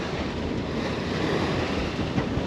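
Choppy sea waves and wind buffeting a sailboat on the way to Île Fourchue near Saint-Barthélemy, a dense continuous roar of surf and wind noise, loud and close, with no talk.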